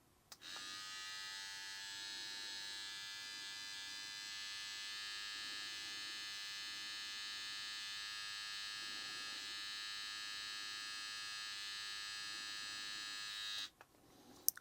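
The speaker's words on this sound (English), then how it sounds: "Trimmer on low speed." A BaByliss x Tomb 45 hair trimmer runs on low speed, a steady close electric buzz that holds level for about thirteen seconds before switching off, with no talk over it.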